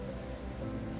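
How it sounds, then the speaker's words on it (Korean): Steady rain falls on surfaces outdoors after a night of rain, a dense, continuous hiss of drops close by with no other sounds. "밤부터 내린 비가 오늘 하루 종일 이렇게 내리고 있어요."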